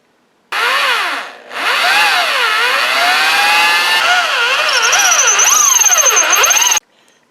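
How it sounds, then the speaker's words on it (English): A drill squeals loudly and continuously as it bites into a steel railroad-spike knife blank for handle-tang holes, the pitch wavering up and down, with one brief dip partway before it runs on and stops. "I'm going to drill some holes for the handle tang here."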